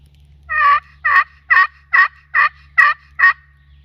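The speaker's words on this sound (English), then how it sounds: "See if I can get him to gobble again." An Osceola wild turkey gobbles in a Florida river bottom, seven loud, clear, evenly spaced gobbling bursts against a quiet background, with no talk.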